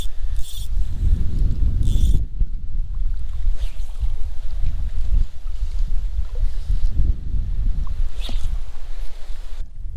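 Strong gusty wind buffets the microphone beside a remote mountain lake, with heavy low rumbling bursts rising and falling continuously, and faint water sounds underneath.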